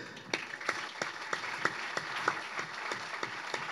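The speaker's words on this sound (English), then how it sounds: "Let's clap it up for these guys." A small tech meetup audience claps at a fireside chat, sparse and uneven individual claps rather than a full ovation, moderately distant and fairly quiet.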